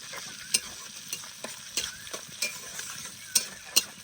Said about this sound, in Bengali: মাছ ধরার তেলের মধ্যে দিয়ে দেবো তেজপাতা আর গোটা গরম মশলা